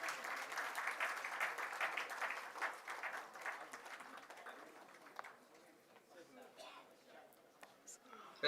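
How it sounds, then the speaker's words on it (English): Applause at an accountancy institute awards ceremony, a crowd clapping steadily and then thinning into scattered claps, fairly distant in a hall. "Deserve a well round of applause from all of us"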